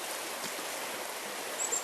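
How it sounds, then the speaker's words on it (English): River water rushes steadily around a big rock among hemlock and maple trees, a close, even broadband flow with no voices. "the river flows around this rock"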